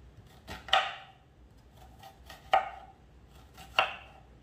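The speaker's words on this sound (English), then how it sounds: "And you have beautiful diced onions. I just turn that over and I just quick slice this." A knife slices through an onion onto a cutting board while pot pie ingredients are prepared, giving three crisp, separate chops spaced about a second apart, close and clear with no talking.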